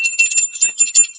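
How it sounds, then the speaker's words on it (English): A small hand bell rings briefly on a call-in show to welcome a first-time caller, a bright, rapid jingling shaken for about a second, close and clear. "we got a bell to ring"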